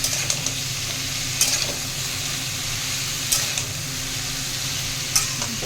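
Bori lentil dumplings frying in oil in a pan for shukto, a steady sizzle with occasional sharper pops and faint stirring, continuous and close with no talking.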